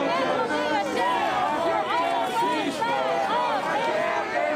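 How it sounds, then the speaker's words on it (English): A protest crowd at the UCLA pro-Palestine encampment chants together in rhythmic, sustained voices, dense and loud, with crowd chatter mixed in and police moving the crowd nearby. "Let me let you listen to some of the chanting here right now."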